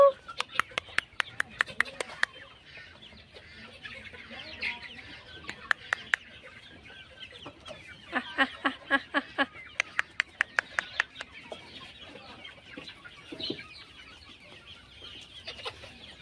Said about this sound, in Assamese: এখন ফাৰ্ম হয় মুৰ্গী ফাৰ্ম ঢেৰ মুৰ্গী আছে